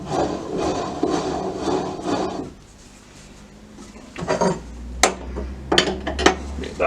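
Wooden faceplate work on a wood lathe: rubbing, scraping handling noises close by for two seconds, a quiet pause, then knocks, clinks and sharp taps with a low hum underneath.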